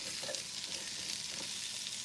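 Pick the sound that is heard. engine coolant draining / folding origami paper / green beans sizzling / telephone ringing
green beans sizzling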